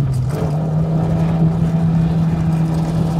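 A Toyota AE86 with a 4AGE engine and six-speed gearbox drones loudly and steadily under hard braking on a mountain pass, the tone stepping up slightly early as it drops from third to second.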